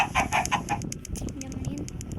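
Clucking chickens in the Minecraft video game give a run of short, repeated calls near the start, with a voice talking softly over them.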